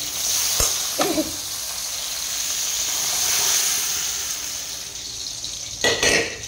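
Fish and ghugni curry sizzling as they fry in a pan, a steady hiss of hot oil with a few sharp clinks of a utensil against the pot at the start and end.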